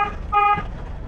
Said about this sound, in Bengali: হর্ন দাও, হর্ন।